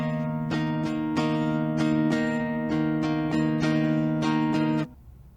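An acoustic guitar strums chords on three strings in a steady down-down-up pattern, about a dozen crisp strokes ringing together before the last chord is cut off sharply; no voice.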